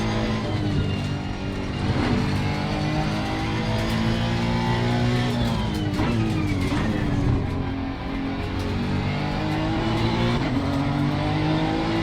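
Honda NSX EVO GT3 race car at the Kyalami Grand Prix circuit in Assetto Corsa Competizione, its engine droning loud and steady through a lap, pitch rising and falling with gear changes and brief tire squeal, with no voice.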